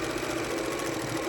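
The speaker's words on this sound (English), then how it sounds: "So I'm going to come along and sew a channel just all along there." A sewing machine stitching a channel in fabric for a reversible Christmas tree gift bag, a loud continuous close motor drone with rapid steady needle rhythm and no pauses.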